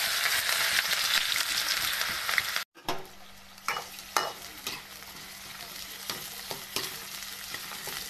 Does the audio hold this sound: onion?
yes